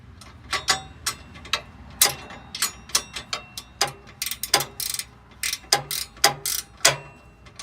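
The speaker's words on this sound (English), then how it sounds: "tighten these nuts" A ratchet wrench tightens 15 mm nuts on a Kleinn air horn bracket on a 2017–2018 Ford Super Duty F250, with a rapid series of close, sharp clicks in uneven bursts, alone without talk.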